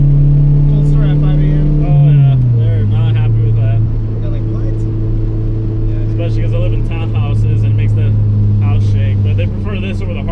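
A Honda S2000 sports car with a loud exhaust idles with a deep droning exhaust note that drops in pitch, under a person talking throughout.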